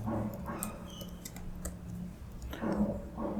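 Quick bursts of typing on a Lenovo laptop keyboard, light clicking keystrokes in short uneven runs with brief pauses, close by in a quiet room.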